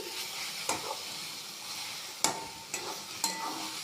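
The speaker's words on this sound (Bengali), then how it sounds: "গ্যাসটা জোরে করে দিয়েও নেড়ে নিতে পারেন।" Cabbage frying hard in a pan over a high gas flame, a continuous close sizzle broken by a few sharp scraping clicks as it is stirred, with no talk.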